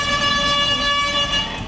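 A bus horn blares continuously on a road, a steady loud honk holding for the whole stretch with no voices.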